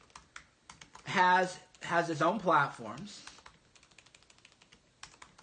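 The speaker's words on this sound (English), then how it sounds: "Hold on, no, I'm typing it." Someone types on a computer keyboard nearby with quick irregular key clicks running throughout, partly under a man's speech in the middle and then heard alone.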